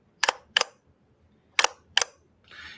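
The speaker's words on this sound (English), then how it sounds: "I'll show you the shutter." An Ansco Sure Shot vintage box camera has its shutter fired four times in crisp, close mechanical clicks, two quick pairs separated by a pause. A soft rustle of handling follows.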